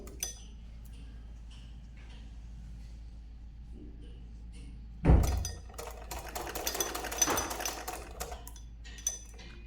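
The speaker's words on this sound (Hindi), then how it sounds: "अब ये हम वापस से सिलाई करते हैं।" A sewing machine stitching a sleeve, starting about halfway through with a sudden loud burst of rapid mechanical rattling that carries on unevenly to the end after a quiet start.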